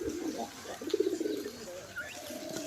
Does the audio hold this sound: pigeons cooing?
yes